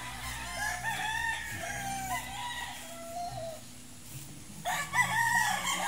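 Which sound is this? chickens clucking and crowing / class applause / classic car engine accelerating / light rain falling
chickens clucking and crowing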